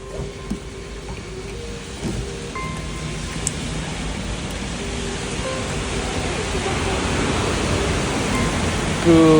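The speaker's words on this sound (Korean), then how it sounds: "비가 엄청 옵니다" Heavy rain pours steadily onto a gas station in Ssangchon-dong while a petrol pump is in use, a dense, even hiss that swells slightly toward the end, with a few faint knocks and a voice now and then.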